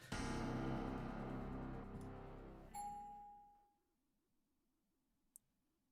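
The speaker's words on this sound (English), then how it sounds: "The gentle chime of the elevator shatters the silence" A hotel elevator chime in the video game Tsukihime rings out as a full, resonant ding-dong that slowly fades into near silence, with a faint tick near the end.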